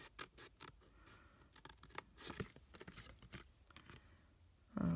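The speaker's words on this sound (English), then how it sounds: "we are going to cut the entire of this strip, this rectangle" Scissors cut through a paper strip for an Easter egg box in a series of quick snips and rustles, quiet and close, with a louder handling noise at the end.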